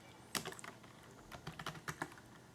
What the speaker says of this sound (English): open a new terminal and we'll type ROS2 launch Gazebo ROS